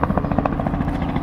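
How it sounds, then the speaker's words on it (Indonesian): A helicopter flies nearby, a loud, steady rotor chop in a mountain setting in Alsace, France. "Ada helikopter, guys."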